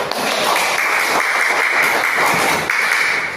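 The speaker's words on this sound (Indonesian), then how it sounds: "Kita kasih aplaus keduanya." A classroom of students gives a round of applause to two discussion groups during a civil law lesson, loud, close clapping that stays continuous and fairly even throughout the short stretch.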